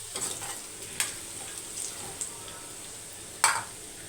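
Meal maker (soya chunks) deep-frying in hot oil, a faint, steady sizzle with a few soft clicks and stirring taps, no voices over it.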